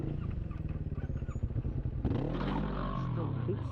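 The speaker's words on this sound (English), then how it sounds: "It's stalling, yeah. Well, that was like a really weird stall then." A motorcycle engine putters with a steady, close rhythm, then abruptly stalls and cuts out partway through, leaving a person talking over the quieter background.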